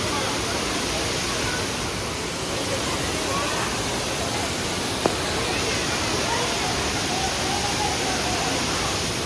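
Kutralam waterfall in Tenkasi roars as a dense, constant rush of falling water, loud and close, with faint crowd chatter underneath.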